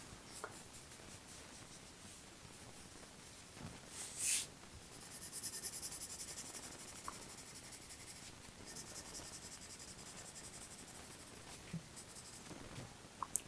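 A pencil sketches hair on paper in quick, faint scratching strokes, close and alone, with a few soft taps and rustles between the strokes.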